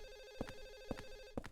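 A telephone rings in the video game Silent Hill 4: The Room, a steady buzzing ring cut by three evenly spaced sharp pulses, heard alone at moderate loudness.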